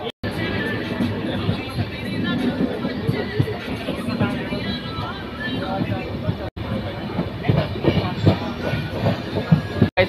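Odisha Sampark Kranti express rolling slowly through a station, a steady rumble of wheels with soft clickety-clack beats and coach rattle, people talking under the noise throughout.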